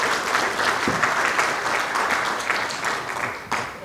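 A seated audience at the launch ceremony of a Korean advisory council in New Zealand gives sustained, even applause, moderately loud and continuous throughout.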